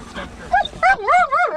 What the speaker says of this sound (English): look at all them puppies.